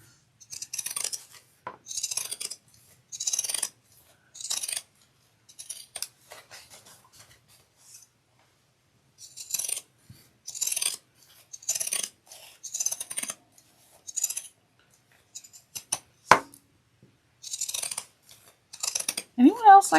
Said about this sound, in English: almost like the sound of scissors cutting